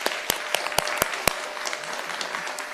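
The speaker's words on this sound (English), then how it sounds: "So if we could give them one more round of applause before we close this out." A city council meeting audience claps in a brief, moderately loud round of applause with individual sharp claps standing out, close and steady with no talking.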